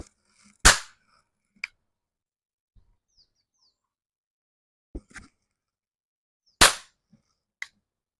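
A toy cap gun pops two sharp, loud reports several seconds apart, each followed by fainter mechanical clicks as the hammer is reset, with near silence between.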